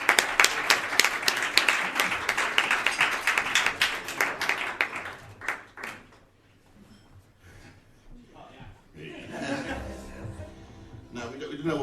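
Audience applause for a singer at a showcase concert, dense and lively at first, then fading away with scattered laughter and talk, and a little murmuring and movement at the end.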